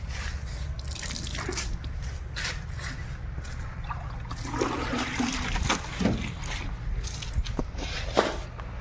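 Water is sprinkled and splashed by hand while a Mahindra Thar is washed at home, giving scattered close drips and patters over a steady low background hum, with a few sharper splashes.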